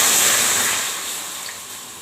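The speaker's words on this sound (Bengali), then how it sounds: "এখন এই কড়াইয়ের মধ্যে অল্প একটু জল দিয়ে দিলাম, প্রায় 4 চামচ মতো।" About four spoonfuls of water hit a hot wok (kadai), giving a loud, close hiss and sizzle that slowly fades over two seconds.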